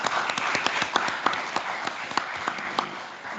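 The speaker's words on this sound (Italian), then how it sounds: "che accogliamo con un applauso" Audience at a history talk in Casarsa welcomes a speaker with applause: a close, dense patter of many hands clapping with sharper individual claps poking through, slightly tapering at the end.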